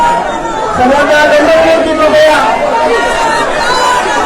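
A packed crowd at a Shiv Sena–BJP political rally in Thane murmurs and chatters in a loud, steady babble, with a single voice rising above the hubbub.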